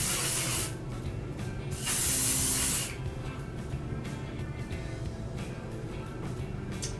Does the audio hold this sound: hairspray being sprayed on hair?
yes